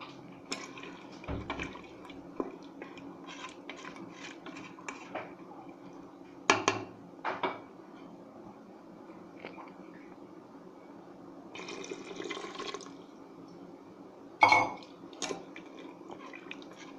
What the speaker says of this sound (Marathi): साधारण हा भात बुडतील इतकंच पाणी मी यामध्ये घातलेलं आहे